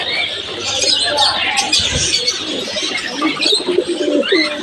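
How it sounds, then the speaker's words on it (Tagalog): Many birds, pigeons or doves among them, chatter and coo in a busy outdoor spot where ducks are also present, a dense overlapping chorus of calls and tweets running throughout at moderate distance. "Iingay ng ibon, no?"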